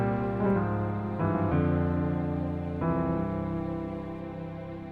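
Piano playing a major-chord inner voicing decorated with quick grace notes, several sustained chords struck in turn with short ornamental notes leading into them, ringing clearly and fading, solo with no voice.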